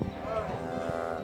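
A cow being rounded up by a herding dog gives one drawn-out, fairly close moo that fills the moment on its own.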